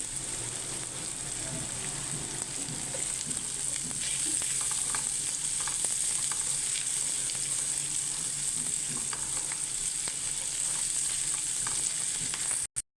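Garlic and onion sautéing in a hot pan, a steady, close, dense sizzle that holds evenly throughout before stopping abruptly at the end.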